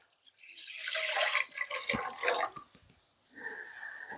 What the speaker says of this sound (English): let's start by taking our 2 liters of milk and pouring it into our pot